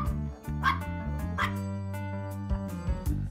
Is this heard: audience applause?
no